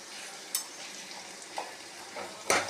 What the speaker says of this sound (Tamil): இப்போது வெங்காயம் வதங்கிடுச்சு.